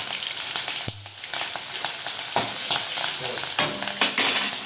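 Mustard seeds and green chilies sizzle steadily in hot oil during tempering for a radish-greens sambharo, a dense close crackle with scattered sharper pops throughout.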